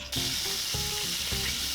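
Steady sizzling of floured veal fillets frying in hot oil, a constant crackling hiss with faint clinks from the pan underneath.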